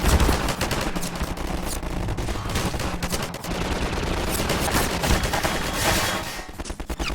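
Rapid bursts of gunfire from a gunner ship in a Star Wars mod for Garry's Mod rattle close and loud, shots overlapping in dense volleys with a few sharper cracks standing out, and no talking.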